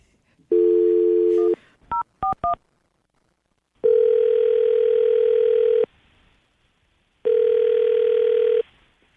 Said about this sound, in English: We're going to call her right now,